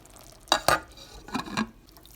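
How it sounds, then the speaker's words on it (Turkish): A stuffed yellow pepper filling mixture is stirred with a utensil, giving a few close scraping, clinking strokes in two short pairs against a quiet background. "Tüm malzemeyi karıştıralım."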